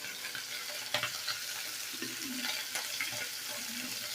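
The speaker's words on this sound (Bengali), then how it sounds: "মাছটাকে একটু ভালো করে ভেজে নিতে হবে" Steady hot-oil sizzle of tilapia pieces frying, with a few soft scrapes and taps of a utensil against the pan, no voices.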